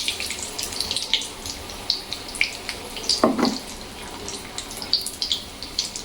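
Vada pav fritters frying in hot oil, a steady soft sizzle and bubbling with scattered crackles and one louder splash in the middle, no voices.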